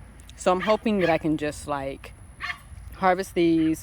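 Dogs barking and yipping in bursts in a home garden setting, several close yelps and whimpering barks overlapping with someone talking about harvesting her fall garden vegetables.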